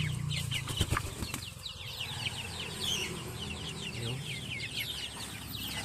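Backyard chickens cluck steadily at close range, with a burst of wing flapping early on and a low murmur of fowl throughout, no talking.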